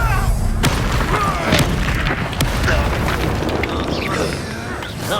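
A Bombarda spell detonates in Hogwarts Legacy combat, a loud booming blast amid continuous battle noise, with sharp magical bursts scattered through the dense, heavy din.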